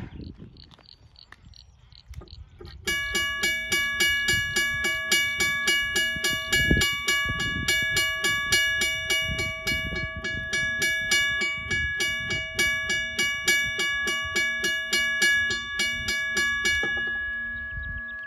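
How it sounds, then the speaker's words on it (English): WABCO railway crossing bell ringing steadily and loudly after a brief quiet start, a rapid metallic clanging with bright ringing overtones that repeats evenly for about fifteen seconds before stopping. "so that was the WABCO bell"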